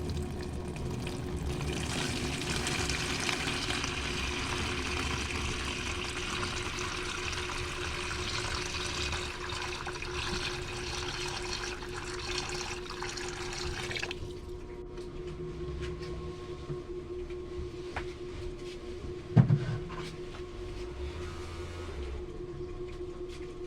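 Water pours steadily from a tap into a container prepared for betta fish, a loud continuous gush that stops partway through, leaving a quieter trickle and a brief clunk.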